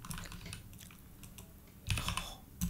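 Quiet, quick clicking of fingers typing code on a computer keyboard, a close, light patter of keystrokes with a denser burst near the end.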